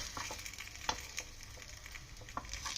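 Small rava appe, or paddu paniyaram, sizzle and fry softly in a pan as they are flipped, with a steady hiss and a few light scraping taps, quiet and continuous.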